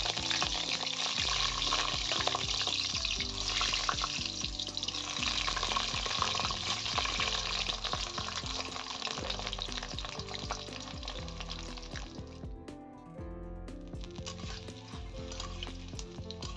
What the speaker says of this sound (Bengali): কক মুরগি মাংস রান্না করার জন্য প্রথমে আমি আলুগুলোকে তেলের মধ্যে ভালো করে ভেজে নেব।